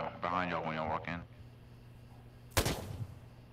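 A single sharp gunshot crack fires in a multiplayer shooter video game, loud and abrupt after a stretch of quiet, following a burst of team voice chat.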